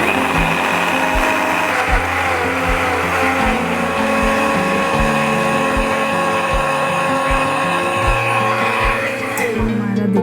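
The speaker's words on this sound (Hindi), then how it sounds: "अब हम इसको ब्लेंडर में ब्लेंड कर लेंगे" A blender runs continuously at full speed, churning chopped detox juice ingredients with a little water, a loud steady whirring motor with rhythmic pulsing throughout.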